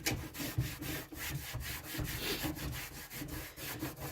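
A wet cloth rubs back and forth over a wooden sideboard, giving quiet, rhythmic swishing strokes with no one talking.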